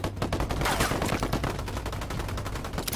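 Rapid, dense gunfire in the video game Ghost Recon Wildlands, with an exchange of shots that continues at moderate level throughout without pause.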